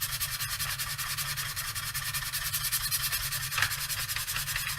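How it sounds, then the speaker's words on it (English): Sandpaper of 80 grit rubbed by hand against a turned wooden flute spinning on a lathe, a steady close scratchy hiss with a faint motor hum beneath and a brief louder scrape near the end. "what I can actually do now is just sand that"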